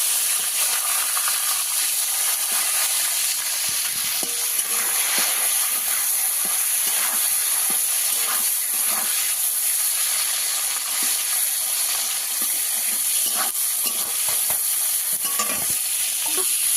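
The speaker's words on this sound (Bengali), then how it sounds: "টমেটো ভাজা হতে থাক" Chopped tomatoes fry in oil with a five-spice tempering, giving a loud, steady sizzle and hiss throughout, with occasional stirring scrapes and no voices.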